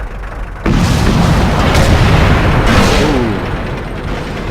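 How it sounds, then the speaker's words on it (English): A tank in World of Tanks is hit by a shot from a T-30. A sudden loud boom is followed by a long rumbling roar that slowly fades, and a voice briefly exclaims. "That's what happens when you get shot by the T-30."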